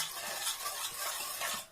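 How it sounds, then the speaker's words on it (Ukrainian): A spoon stirs sugar into tomato juice in a bowl, quiet scraping and swishing strokes repeating at close range, with no voices. "Все розмішую. Трішки можна розмішати, щоб розтанув цукор."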